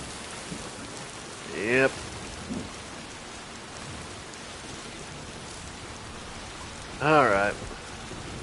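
Timefall rain in Death Stranding 2 falls as a steady soft hiss of rainfall, with someone briefly speaking twice over it.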